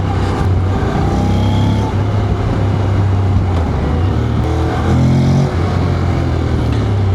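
A motorcycle engine pulls hard from low revs, its steady loud drone rising in pitch twice as it accelerates, close and continuous with no talk over it.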